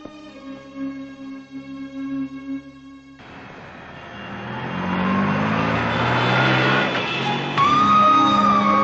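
A lorry comes up from behind on a road, its engine noise growing from a faint hum to a loud, close roar, with music underneath at first and a high horn-like tone near the end.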